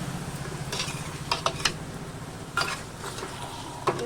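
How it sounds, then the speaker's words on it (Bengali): Marinated meat being stir-fried down in a pan for a Bengali kosha dish, with a soft continuous sizzle and scattered scraping clinks of a spatula against the pan, no speech over it. "আমি মাংসটা খুব একটু বেশি কষিয়ে ফেলি, মাংসটা কষলে কালারটা ভালো হয়"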